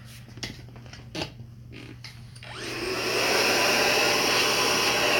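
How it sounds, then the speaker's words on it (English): Hair dryer blow drying a classic hairstyle. Brushing and handling sounds come first, then the dryer switches on and blows a steady, loud whooshing roar, close by. "Back to blow drying."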